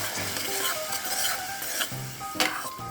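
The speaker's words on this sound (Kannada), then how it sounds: "ಈಗ ಪ್ಯೂರಿ ಇದಕ್ಕೆ ಹಾಕಿದ್ದೀನಲ್ಲ, ಇದು ಚೆನ್ನಾಗಿ ಮಿಕ್ಸ್ ಮಾಡ್ಕೋಬೇಕು" Spoon stirring tomato puree into red poha (kempu avalakki) cooking in a pan, with continuous scraping and sizzling and a few clinks of metal against the pot, close and steady.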